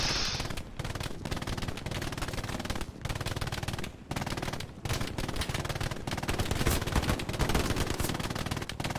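Machine gun fire in the World War II shooter Hell Let Loose rattles in long, loud sustained bursts, separated by short pauses, close and continuous throughout.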